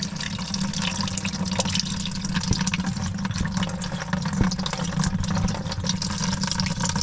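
Water drains steadily from the fuel tank of a John Deere 7520 tractor, a continuous splashing trickle heard close up with faint low engine-like rumble underneath and no talk.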